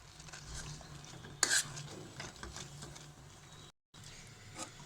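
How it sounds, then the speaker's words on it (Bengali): Spoon stirring semai cream thickened with cornflour in a pot, a steady close scraping and swishing with one sharper clink of utensil against metal partway through and a brief gap near the end. "অনবরত নেড়ে করতে হবে, নইলে নিচে থেকে কর্নফ্লাওয়ারটা দলা পাকিয়ে যাবে"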